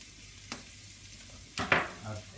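Spices and garnish sizzle in a frying pan while lamb confit with apricots and red onions is cooked. A steady fry hiss runs beneath a few sharp stirring scrapes, with a louder burst near the end and no speech.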